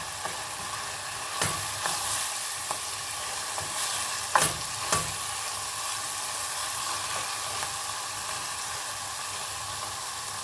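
Tomatoes and peppers sautéing for an okra dish, a steady soft sizzle with occasional sharp clinks of a spoon stirring against the pan, close by and alone.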